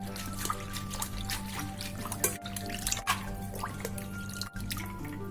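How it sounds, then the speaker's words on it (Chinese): Soybean sprouts are rinsed clean in water, with steady dripping and trickling splashes over a continuous low background hum, close by and fairly quiet. "然后把黄豆芽清洗干净"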